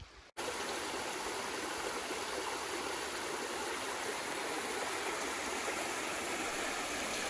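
A stream runs along its banks in a valley of the Devil's Eyebrow Natural Area, giving a steady, full rushing murmur that starts after a brief pause and continues evenly without talk.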